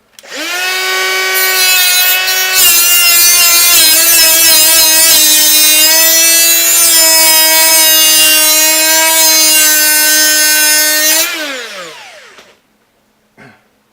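A loud, sustained grinding whine of a power cutting tool biting into a metal bearing on a Kenmore washing machine, holding steady for about eleven seconds before winding down, then a brief clunk.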